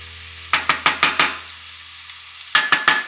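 Garlic and onions sauté in a pan, with quick rhythmic stirring strokes in two bursts over a soft sizzle and a pause between them.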